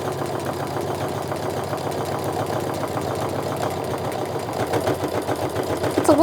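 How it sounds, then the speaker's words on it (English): A sewing machine runs steadily while stitching a quarter-inch seam along a fabric tote bag, a close mechanical whir with rapid even pulses that grows slightly louder and rougher near the end, with no talking. "Now I'm just going to sew my 1/4 inch seam all the way down."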